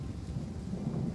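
Thunder and rain from a strategy video game, a low distant rumble rolling under a soft steady patter, brief and fairly quiet.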